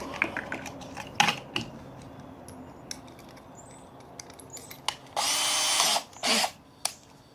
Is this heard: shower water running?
no